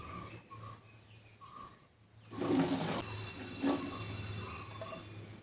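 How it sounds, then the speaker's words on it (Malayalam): A rushing gush of water into a bottle for homemade plant fertilizer starts midway, loud and close, after a quieter stretch with faint background tones. "ഇനി ഇതിനകത്തോട്ട് നമുക്ക് നിറച്ച് വെള്ളം ഒഴിക്കാം"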